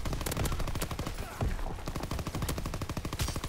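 Dense Call of Duty WW2 multiplayer gunfire, rapid overlapping shotgun and rifle blasts in quick succession at close range, loud and continuous with faint voices underneath.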